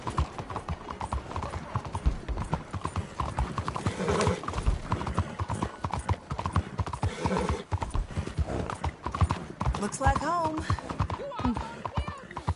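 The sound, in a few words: horse hooves clip-clopping, from video game Red Dead Redemption II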